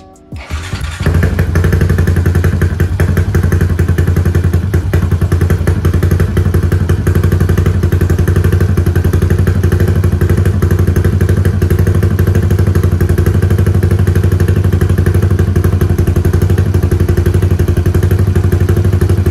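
Motorcycle engine starts with a thump and settles into a loud, steady rumbling idle, close by and continuous.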